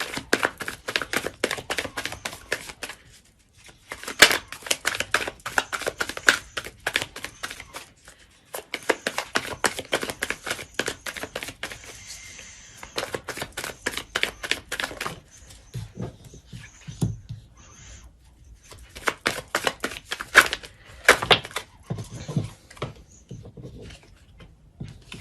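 Tarot cards shuffled and drawn by hand, with quick close-up bursts of crisp riffling and flicking that run for several seconds, broken by short pauses.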